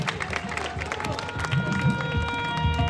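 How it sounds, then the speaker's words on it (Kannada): Students clap together at a school prize event, a dense, steady patter of many hands nearby, with a voice speaking over it. "ಚಪ್ಪಾಳೆ ತಟ್ತಾನೇ ಇರಿ ಚಪ್ಪಾಳೆ"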